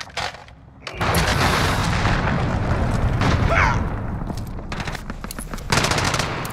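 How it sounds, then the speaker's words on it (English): Rapid rolling blasts and heavy booms from a cluster strike in Modern Warfare fill the stretch after a quiet start, loud and continuous, easing off and then flaring again at the end. "Cluster strike Blast overall. missile away."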